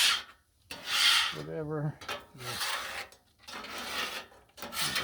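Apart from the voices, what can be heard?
scraping leftover bacon off Blackstone griddle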